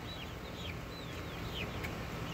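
Soft chicken clucks and chirpy calls in a chicken coop over a constant low background hum, a few short vocalizations scattered across a couple of seconds.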